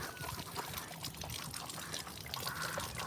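Water pours steadily for a thirsty dog at a dog park, a continuous close splashing trickle lasting the whole moment with no voices.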